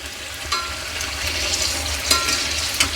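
Green chillies for mirchi bajji bubble and sizzle steadily in hot oil, with occasional louder crackles and stirring sounds close by.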